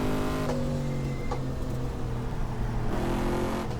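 Corvette engine in the GTR2 racing game droning steadily at high revs in second gear, with brief shifts in pitch, loud and continuous throughout without any speech.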